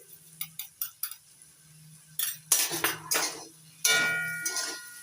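A spoon scrapes and clinks in a pan as soy sauce and tomato sauce are stirred into a semolina snack. Several sharp taps come first, then rougher scraping strokes, close and with no talk.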